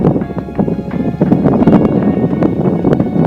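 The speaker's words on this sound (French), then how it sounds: "désolé pour le vent, parce que voilà, on prend bien le vent ici" Wind buffets a microphone on an open hilltop with a wide panorama, making loud, continuous rumbling gusts that flutter unevenly throughout.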